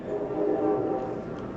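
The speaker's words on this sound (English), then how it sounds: "That's why the engineer is blowing the horn so much." An Amtrak Superliner train near Chicago's 57th Street station, passing track work, gives a steady, loud low rumble with a sustained tonal drone, likely the locomotive horn heard from on board, with no speech.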